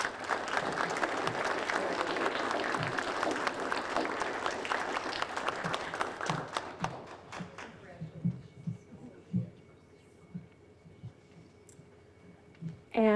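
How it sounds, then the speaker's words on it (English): An audience at a student writing awards ceremony claps for an honorable mention in poetry, sustained applause that thins out into a few scattered, isolated claps and then fades into near quiet. "Please join me in applauding for our honorable mention"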